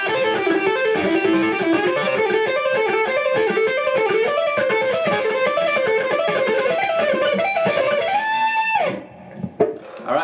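Pentatonic scale licks on guitar move down through the shapes, a busy stream of picked notes with a slightly driven, effected tone, ending on a held note and a brief scrape before stopping.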